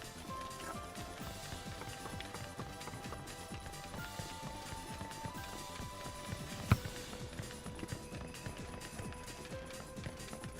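A horse galloping in Warriors Orochi 3, a rapid clip-clop rhythm running steadily under game music and effects, with one sharp impact midway; no speech.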